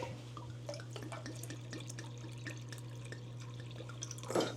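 Rainwater trickles into a measuring cup as it is filled to the one-and-a-half mark, with soft close drips and splashes over a steady low hum.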